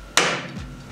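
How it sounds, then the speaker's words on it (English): Metal wrenches are tossed onto a Husky tool chest, landing in one sharp, loud, close clank that rings briefly and fades. "I can throw those wrenches or the sockets up here"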